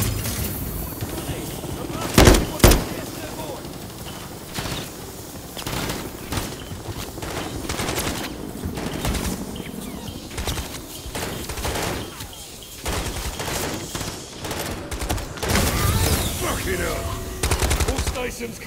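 Sustained automatic gunfire rattles at a helicopter in the Call of Duty Modern Warfare III campaign, dense bursts with a couple of heavier booms, mixed with battlefield din while soldiers shout over it.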